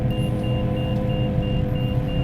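A Shrike 530F helicopter in Microsoft Flight Simulator, throttle rolled to idle, gives a loud steady low engine and rotor drone with a repeating high warning beep about every third of a second, no talking.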